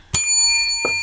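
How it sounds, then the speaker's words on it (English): A bell from the Arizona $30 Millionaire Maker lottery scratch-off game rings twice: a bright, sharp strike with a long ringing tone, then a second strike near the end, close and loud with no talking. "First bell of the day."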